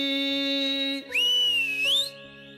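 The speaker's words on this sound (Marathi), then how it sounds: "शिट्टी वाजली, गाडी सुटली" A shrill whistle blows within a song, starting as a steady tone over sustained music, then a loud rising, wavering blast of about a second before the music carries on.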